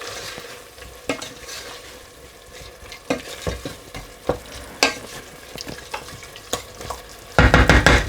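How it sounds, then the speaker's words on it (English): Ginger garlic puree, frozen green chilies, coriander powder and salt stirred together in a pressure cooker on a hob, with a steady run of scraping, clattering spoon strokes over a soft sizzle, growing louder and busier toward the end. "Just give everything a mix."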